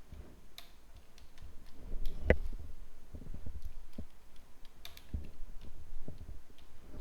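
Keystrokes tapped out on a computer keyboard while entering a terminal command, a loose run of light clicks with one sharper, louder key hit, close and alone without talk.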